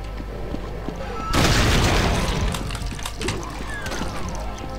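Cannon fire in the video game Brutal Doom, a sudden heavy boom that breaks into dense rumbling blasts and crackle, staying loud and continuous to the end.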